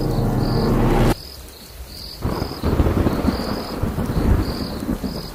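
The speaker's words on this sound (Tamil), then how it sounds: "எதிரில் வரவங்க கூட தெரியாத அளவுக்கு இடியும் மின்னலுமா பலத்த மழை பெஞ்சிக்கிட்டு இருந்துச்சு" A thunderstorm with heavy rain for an audio drama: a long rumbling thunder roll cuts off abruptly, then dense rain hisses in under steady chirping crickets, loud and close throughout.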